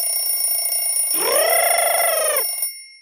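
A loud electronic alarm clock rings steadily for a couple of seconds in a children's cartoon, with a warbling tone rising over a high buzzing ring, then cuts off.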